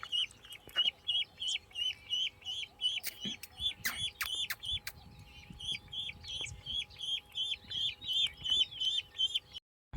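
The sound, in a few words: domestic village ducks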